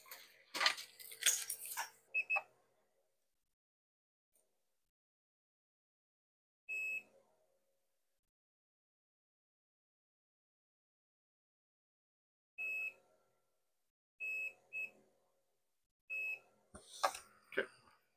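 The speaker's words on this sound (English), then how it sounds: "get our multimeter out." Short electronic beeps from a multimeter on continuity test while a PSone slim console is being modded, sounding in a few isolated single and paired bursts between quiet gaps, with some handling clatter near the start and end.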